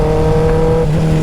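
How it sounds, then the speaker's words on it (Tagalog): A 2024 Kawasaki ZX6R motorcycle engine, loud and close, holding a steady droning tone during a rev-matched downshift from fourth gear, pitch dipping briefly partway through; no voices. "Magda-downshift ako gamit ang rev matching."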